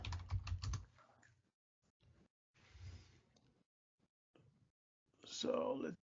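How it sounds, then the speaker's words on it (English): Computer keyboard typing in short bursts of clicks, close and quiet, separated by pauses, with someone speaking in between. "So let me go ahead and type ifconfig."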